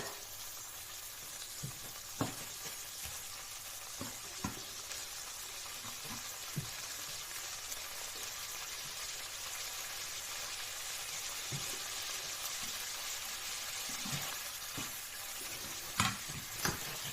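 Black tiger prawns stir-fried in a pan for Thai shrimp fried rice, a steady close sizzle of frying with occasional clinks and scrapes of the spatula against the pan.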